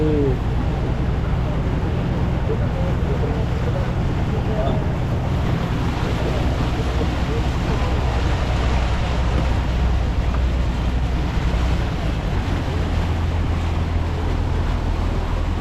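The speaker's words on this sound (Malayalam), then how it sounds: "നമ്മുടെ വള്ളത്തിന് സ്പീഡ് കൂടുന്നുണ്ട്." A boat's engine drones steadily as it speeds across a backwater in Kerala, with constant rushing water and wind noise throughout.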